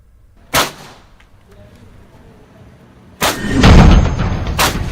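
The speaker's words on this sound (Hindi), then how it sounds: "जिस तेज गति से इस कार्बाइन में गोलियां निकल रही है" Two sharp gunshot bursts from a carbine being tested for the Indian Army, one brief crack early and a longer rumbling rapid-fire volley near the end, with quiet between them.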